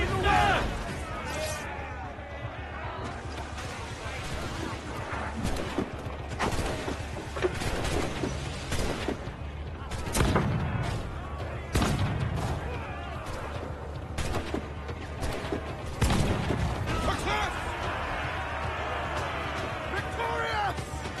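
A battle unfolds with artillery and gunfire: repeated sharp blasts and bursts of shots crack out at irregular intervals, mixed with shouting voices and a constant rumbling background.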